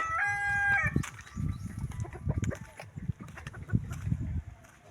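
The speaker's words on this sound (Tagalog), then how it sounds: "Mga manok." A rooster crows loudly at the start, followed by a busy mix of chickens clucking nearby, with scattered clucks and squawks continuing throughout.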